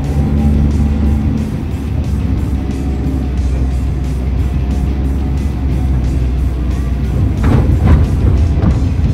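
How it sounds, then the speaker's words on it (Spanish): A Nissan B13 car pulling away in first and upshifting to second, engine rumbling steadily close by with a brief rise in revs and a surge near the end as it accelerates. "suelto embrague y voy al acelerador rápido"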